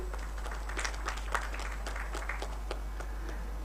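Scattered clapping from a crowd at a medical college convocation, steady and moderately distant, with a low hum underneath.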